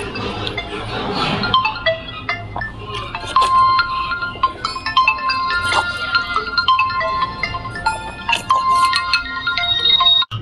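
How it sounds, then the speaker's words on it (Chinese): A phone's melodic ringtone from an incoming call plays through a mukbang eating session, a bright repeating electronic tune with bell-like tones running for several seconds over background kitchen noise. "我刚才来了个电话"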